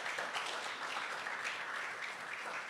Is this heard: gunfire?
no